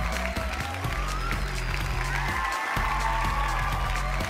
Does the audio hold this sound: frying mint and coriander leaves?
no